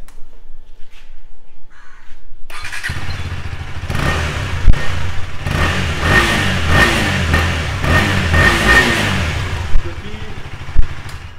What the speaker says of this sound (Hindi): इसका जो नॉर्मल स्टॉक एग्जॉस्ट है उसका मैं आपको साउंड सुनाता हूँ